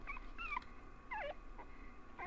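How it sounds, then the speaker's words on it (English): A dog near a shed in the video game Rule of Rose whimpers softly in short, high, wavering whines, three or four cries spread over two seconds against a faint, low background hum. "we can hear some whimpering"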